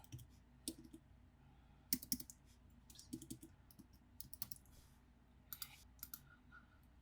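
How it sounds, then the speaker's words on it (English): Quiet keystrokes on a computer keyboard come in short irregular bursts of clicks, close and soft, with pauses between words and no talking. "we're going to type our second word, which was class"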